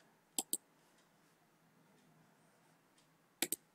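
Two quick pairs of mouse clicks, sharp and close, separated by about three seconds of near silence, used to open an integrated terminal in a code editor.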